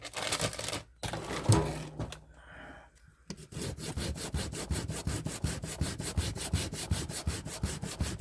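Electric sander working on poured resin, loud and close, with a dense rapid buzzing rasp that starts after a short pause and runs steadily to the end.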